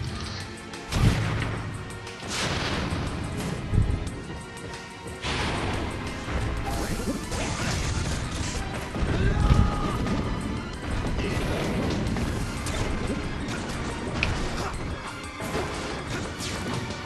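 Explosions and crashing impacts from a Super Smash Bros. Brawl match ring out repeatedly over busy game music and effects, with several louder booming hits standing out at intervals.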